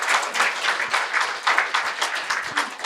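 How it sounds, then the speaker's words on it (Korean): A crowd bursts into steady applause, many hands clapping together in a sustained, even patter. "격려의 박수를 한번 드리겠습니다"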